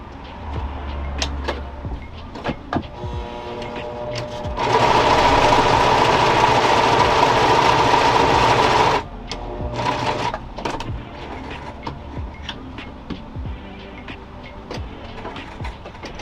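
A sewing machine runs a straight stitch on a side-ruched skirt in one steady, loud burst of about four seconds. Quieter handling and fabric rustle come before and after it.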